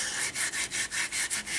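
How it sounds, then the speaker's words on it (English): A Scotch-Brite pad wrapped on a finger scrubs the bore of a seized brake wheel cylinder in quick, even back-and-forth strokes, about eight rasping rubs in a close, dry rhythm. "go in there and scrub her out real good"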